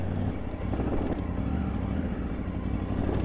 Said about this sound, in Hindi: so this is my first ride of tiger 900 GT